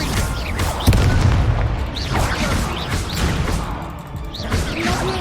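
The Incendio fire spell is cast in Hogwarts Legacy, heavy booming blasts with whooshing bursts layered over continuous game sound, repeating several times across a few seconds.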